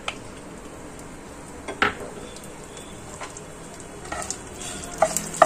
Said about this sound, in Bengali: একটু ভাজা ভাজা, লঙ্কাটা একটু ভাজা ভাজা হোক।